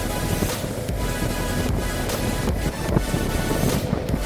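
Steady roar of wind buffets the microphone beside a road off the highway near Del Rio, Texas, broadband and continuous with gusty swells, loud and close, no voice over it.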